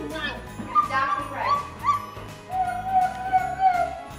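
A person vocally imitates a dog, giving yips and whimpering bark-like sounds in short rising and falling bursts, close, while other voices chatter around.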